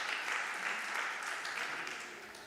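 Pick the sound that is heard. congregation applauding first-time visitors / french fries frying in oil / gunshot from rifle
congregation applauding first-time visitors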